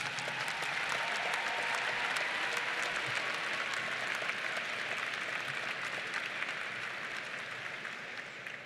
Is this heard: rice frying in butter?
no